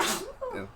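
A single short sneeze in a quiet room, a sharp burst followed by a brief trailing exhale, fairly close and alone.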